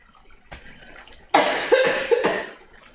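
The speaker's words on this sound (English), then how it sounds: "And I got a cough." A person coughs a few times in a kitchen while cooking crispy rice with spicy tuna, the coughs are sharp and close, with soft noise before them.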